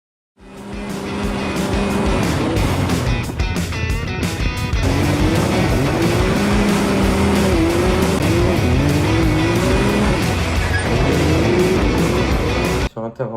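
An off-road buggy accelerates hard on flat ground, its engine revving loud and close through repeated rising gear pulls, with occasional tire noise and a voice talking underneath.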